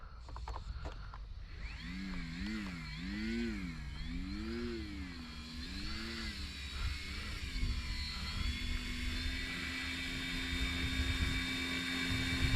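A small radio-controlled propeller airplane whines overhead, its engine pitch wavering up and down as it passes, then holding a steady drone.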